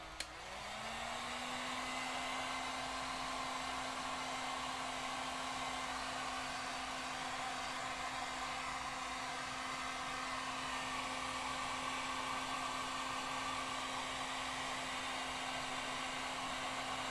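A heat blower roars steadily for about seventeen seconds, warming modelling clay on a two-part mold to re-level it, a loud constant close whine with no talking.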